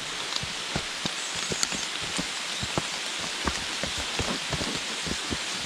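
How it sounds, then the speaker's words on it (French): Heavy rain pours down during a summer downpour in South Korea, a dense steady hiss with sharp individual drops spattering close to the microphone throughout, no talking. "là ça a l'air d'être une très grosse averse"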